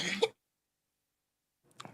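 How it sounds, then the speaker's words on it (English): A single short cough bursts out at the start, followed by near silence and then the faint onset of a voice speaking. "Got a little cough."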